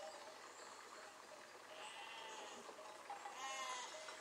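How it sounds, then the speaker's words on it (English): A sheep bleats in the Besiege video game after being rammed by a vehicle. The wavering cries are fairly faint and sit over a steady hiss of game background noise. "We rammed a sheep."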